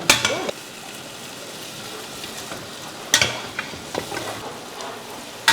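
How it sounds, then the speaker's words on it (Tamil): Mutton on the bone being stirred in a cooking pan, a constant frying sizzle punctuated by a few loud scraping and clattering spatula strokes at irregular moments. "என்ன இப்பவே மட்டன் மிக்ஸ் பண்ணிட்டான்?"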